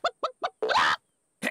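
Cartoon chicken clucking in a children's animated show: three short, evenly spaced clucks followed by a longer squawk and another burst, close and clear with no talk.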